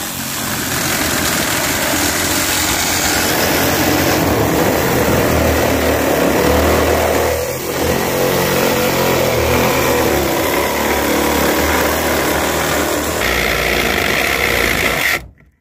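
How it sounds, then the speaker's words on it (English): A Sawzall reciprocating saw, damp inside and running rough, cuts through the roof of a Subaru with a loud, continuous buzzing rasp that carries on for about fifteen seconds before stopping abruptly. "We needed the Sawzall for that shit."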